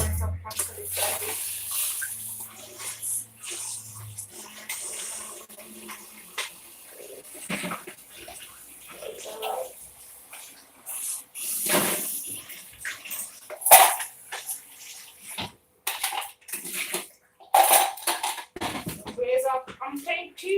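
Water runs and splashes as cooked pasta is rinsed in a kitchen sink, with clattering of pots and utensils mixed in, loud and close, coming in uneven bursts.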